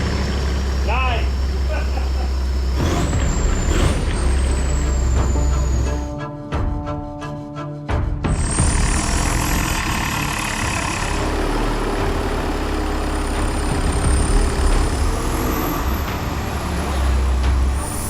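A custom-built truck with hard-plumbed air lines and no exhaust releasing its air brakes: a loud, sustained hiss over the engine's idle with a high turbo whistle, one sharp burst of air in the middle, and voices over the noise.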